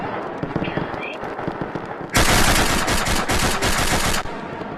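Full-auto machine gun fire in the shooter game Insurgency: Sandstorm played in Rec Room, a loud sustained burst of rapid shots lasting about two seconds after a stretch of quieter game ambience.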